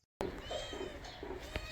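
A hungry pet cat meows repeatedly at close range, several short plaintive cries in quick succession at home.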